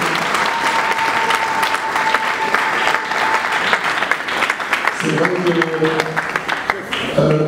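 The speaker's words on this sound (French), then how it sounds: "Est-ce qu'on peut encore applaudir bien fort, s'il vous plaît?" Loud audience applause at a book launch, dense continuous clapping from a crowd, with someone speaking briefly over it near the end as the clapping eases.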